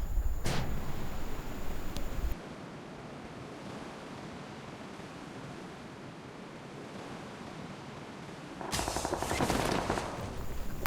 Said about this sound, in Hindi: अब यहाँ लैंड होते ही फायर की आवाज़ आती है